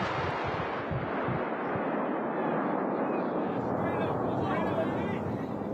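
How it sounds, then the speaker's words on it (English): An N-class high-power model rocket motor at liftoff during a Level 3 certification launch, a loud continuous roaring rush that holds steady for several seconds, with excited voices in the crowd. "The rocket is off the pad."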